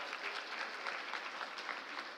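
Sustained applause from an audience at a changemakers showcase premiere, a dense steady wash of many hands clapping with no talk over it.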